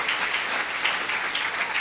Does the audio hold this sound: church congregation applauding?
yes